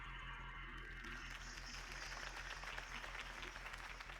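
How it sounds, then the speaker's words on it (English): Steady crowd applause at a campaign speech rally in the Batman Telltale video game, a continuous wash of clapping heard at moderate distance and fairly faint, with no voices over it. "could have heard that applause"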